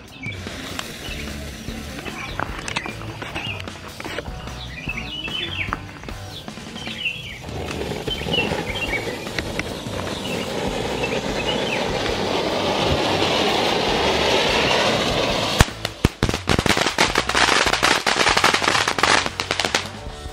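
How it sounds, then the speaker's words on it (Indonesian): A large mountain-type fountain firework roars with a steady hissing spray that builds in intensity, then breaks into a rapid series of sharp crackles and pops near the end. "selanjutnya ini ada mercon air mancur gunung"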